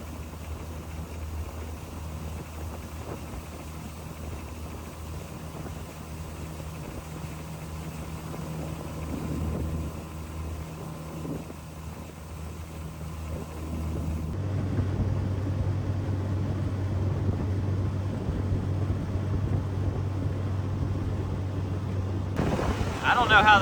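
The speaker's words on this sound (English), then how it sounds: "I don't know how this sounds with the boat moving" A jon boat's outboard motor hums steadily as the boat runs on the water toward the south entrance of Lake George, with wind rush and a deeper, louder engine drone in the second half.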